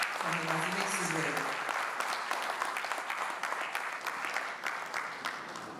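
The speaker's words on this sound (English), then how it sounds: "A round of applause for him as he makes his way." An audience at a corporate launch event for Polaris Bank's VULTe applauds the CEO, steady loud clapping sustained throughout, with a voice talking over the opening moment before the applause carries on alone.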